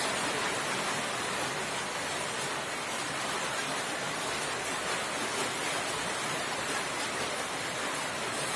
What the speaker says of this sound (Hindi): थोड़ा पानी पड़ रहा है इसलिए ये पानी का थोड़ा आवाज है